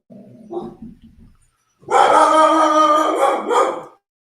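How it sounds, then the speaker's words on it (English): A dog barks in loud, rough bursts close by, a short yelp first, then a long harsh run of barking that fills the moment. "Dog got a little wild."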